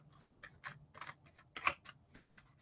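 Tarot cards being shuffled by hand, a series of crisp riffling snaps and flicks in an irregular rhythm, close and fairly quiet with no voices.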